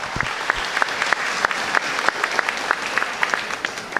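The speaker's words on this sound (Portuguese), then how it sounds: "Uma salva de palmas para a Luísa aí." An audience at a political campaign rally in Mogi gives a round of applause for a candidate's wife, Luísa. The clapping is continuous, with sharper claps from a few nearby hands standing out at a fairly regular pace.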